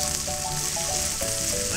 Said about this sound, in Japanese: ほらほら、味噌がね、ちょっと焦げてくる。 味噌がニンニクと合わさって焦げてくる。